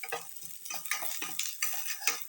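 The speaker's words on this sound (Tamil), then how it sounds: "இன்னும் கொஞ்சம் வதக்கிடலாம்." Ingredients for horse gram soup are sautéed in a pan, with rhythmic scraping stirs of a utensil over a soft sizzle; close and quiet, with no voices.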